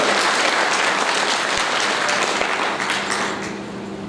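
A church congregation claps together for the Lord during an Afrikaans service, a dense, steady wash of applause that fills the whole stretch and eases slightly toward the end.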